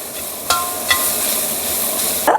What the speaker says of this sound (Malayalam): മഞ്ഞപ്പൊടി പാകത്തിന് ഉപ്പ് ഇതെല്ലാം നന്നായിട്ട് ഇളക്കി യോജിപ്പിക്കുക